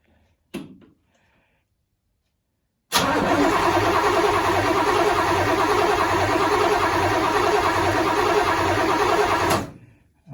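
A carbureted engine cranks and fires up after a fuel pump change, then runs at a loud, steady idle for about seven seconds before being shut off, preceded by a faint click and quiet shop sounds.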